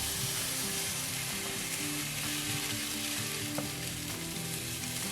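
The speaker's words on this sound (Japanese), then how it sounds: "こういうねジューっていう音がするぐらいに、盤を温めて生地を流し入れますと" Batter poured onto a preheated griddle sizzles loudly and steadily, a close, dense hiss that stays even throughout, with no talking.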